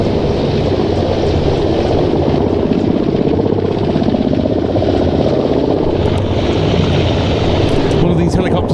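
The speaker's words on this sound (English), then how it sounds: "One of these helicopters able to carry up to 24 troops." A military transport helicopter hovers for a fast-roping drop at an air show, its rotor and turbine throbbing loudly and steadily throughout, with a commentator's voice running over it.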